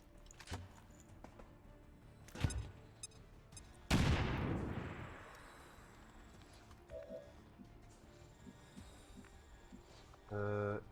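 In XCOM 2 combat, a grenade blast bursts out with a sharp crack and a decaying rumble, preceded by a couple of smaller impacts and followed by faint clicks and a short electronic tone.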